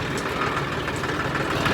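A tractor engine idles close by in a steady, low, throbbing chug that holds even throughout.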